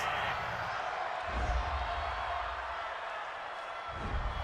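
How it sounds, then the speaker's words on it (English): Stadium crowd at an NFL game between the Indianapolis Colts and Tennessee Titans reacting to a roughing-the-passer penalty, a broad sustained roar of voices swelling and dipping, fairly distant and steady throughout. "this crowd does not like that call"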